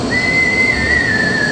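Low-pressure warning whistle on a firefighter's breathing apparatus cylinder, triggered around 60 bar, a single shrill continuous tone held steady and loud for over a second with a faint hiss beneath.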